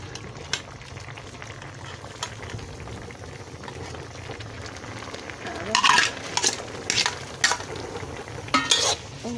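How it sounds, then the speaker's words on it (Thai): A pot of boiling broth bubbling steadily as vegetables and spring onions are added, with a low simmering rumble under intermittent louder splashes and stirring clatter near the end, close by. "เดือดเดือดเอาผักลงไปใส่เลยจ้ะ"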